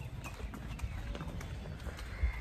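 A horse walking with hooves clip-clopping in a steady rhythm at Mirik, Darjeeling, faint and fairly close against quiet background noise.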